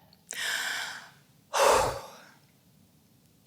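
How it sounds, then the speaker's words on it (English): A deep breath taken close to the microphone: a long inhale followed by a fuller, heavier exhale, with a quiet pause between and a faint catch of breath at the end. "I'm going to take a breath instead."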